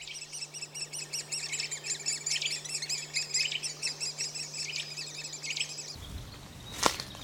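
Great spotted woodpecker chicks call insistently as the male arrives with a bill full of insects. The rapid, high chirping runs continuously and close, then stops abruptly, leaving a brief sharp sound at the end.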